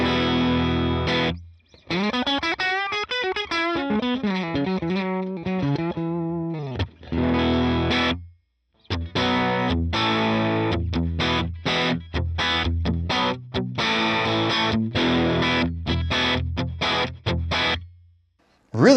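Electric guitar through a Line 6 Helix amp modeler on stock amp settings, chords and melodic runs with a crunchy, slightly distorted tone, played alone with short pauses between phrases.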